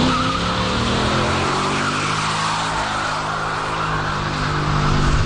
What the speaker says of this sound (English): This is our standing start acceleration test.